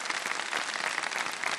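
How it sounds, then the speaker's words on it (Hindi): A studio audience at a televised quiz competition applauds, a dense, steady patter of many hands clapping together, fairly close and sustained throughout. "एक दफ़ा तालियां बजा दें मुकाबले का"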